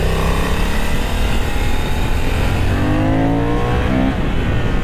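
Honda CB750 Hornet motorcycle pushed hard through a corner on a track, its engine close and loud, revving high and steady with rising and falling pitch sweeps as the rider works the throttle, no voices.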